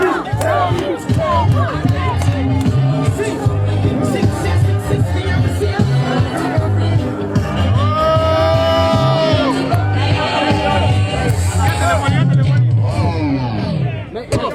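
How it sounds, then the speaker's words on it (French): An audience at a Kémi Séba event in Mali cheers and shouts in a loud, dense crowd roar, with raised voices and whoops overlapping continuously throughout. "Applaudissez."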